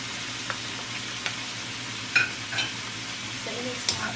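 Seafood being stir-fried in a pan with seaweed and a splash of rice wine, giving a steady low sizzle with occasional soft scrapes and clinks of stirring, close and fairly quiet, no talking.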